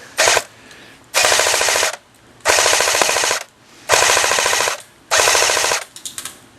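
Airsoft TM2H gun on a tripod firing five loud full-auto bursts, each about a second long with brief pauses between, the pellets rattling against a mailbox as they strike.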